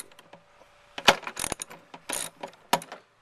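A 10mm socket wrench on a long extension loosening spark plugs on a 2003 Jeep Liberty 3.7L, giving several short bursts of ratcheting clicks separated by pauses, close and clear.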